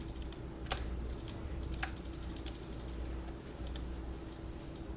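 Computer keyboard typing and mouse clicks while working in 3ds Max, a run of close, quiet key taps and clicks at an irregular pace over a low steady hum.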